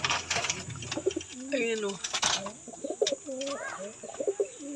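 Pigeons, breeder hens kept as stock birds, coo in a loft: repeated low throaty coos rise and fall close by, with a short chirp or two and someone talking over them.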